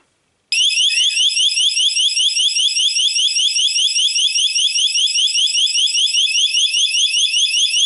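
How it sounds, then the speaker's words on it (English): A loud, piercing electronic siren from a D-Link smart home siren starts abruptly and wails continuously in a fast warbling pattern, steady and unbroken until the end. "Now, when I pull that, the alarm should go on."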